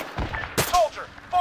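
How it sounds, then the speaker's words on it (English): Sharp gunshots ring out in the Arma 3 military shooter, a couple of loud cracks in quick succession within a second and a half, with faint radio-like voice tones between them. "Fire at that soldier, northwest."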